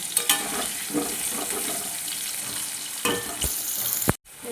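Steady hiss and crackle of potatoes frying in a pan, with a couple of louder scraping stirs, then a brief dropout near the end.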